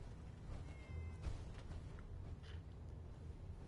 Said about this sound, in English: Here's a cat for you. It's a little gray cat.